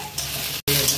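Soybean and potato curry frying in a pan, a steady close sizzle with stirring, briefly cut by a short gap.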